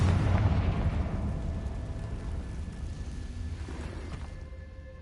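Confringo spell explosion in the video game Hogwarts Legacy: a deep, rumbling blast that fills the whole clip and slowly fades into a low roar.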